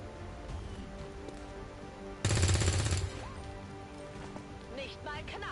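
A short automatic burst of weapon fire in XCOM 2, about three-quarters of a second of loud rapid shots standing out from a low rumbling background, with faint chirping effects and quiet voices afterward.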